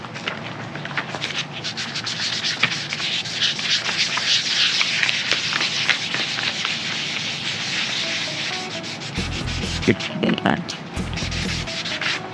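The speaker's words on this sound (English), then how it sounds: "wet sanding." Hand wet sanding on the paint of a 1991 Chevrolet G20 conversion van gives a steady close scratchy rubbing, repeated strokes continuing throughout, with a few low thumps near the end.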